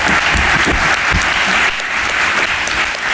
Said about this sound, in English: When you clap, I get to take a breath